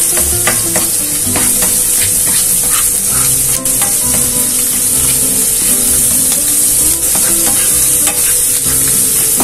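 A small amount of garlic sautés in oil in a pan, a dense, close and loud sizzle that runs on without pause, with scattered pops and occasional stirring.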